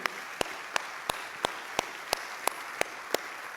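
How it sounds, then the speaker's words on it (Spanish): Members of a church congregation clap in slow, evenly spaced unison beats, about three per second, faint and slightly distant over a soft background hiss. "Dale un fuerte aplauso para Él."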